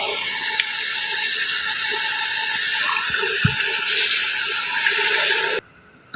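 Water pours steadily into a pot of rice for a pulao, a continuous splashing stream with a few small knocks, stopping abruptly near the end.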